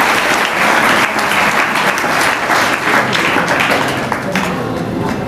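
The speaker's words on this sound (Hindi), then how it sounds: "एक बार तालियां बजा दे भाई" A crowd at a school admission celebration and prize-giving ceremony claps loudly and steadily, a close, dense burst of applause that eases off only slightly toward the end.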